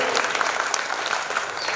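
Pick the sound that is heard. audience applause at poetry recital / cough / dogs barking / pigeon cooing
audience applause at poetry recital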